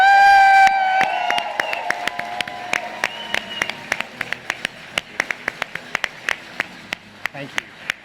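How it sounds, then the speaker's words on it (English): Audience applause at a leadership conference awards celebration, beginning under a sustained voice or music tone and thinning into scattered individual claps that taper off over several seconds. "Let's give this group another big round of applause."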